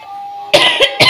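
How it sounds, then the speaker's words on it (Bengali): Three sharp, loud coughs in quick succession ring out close by in a home kitchen, following a stretch of quiet room tone. "এত কাশি হয়েছে"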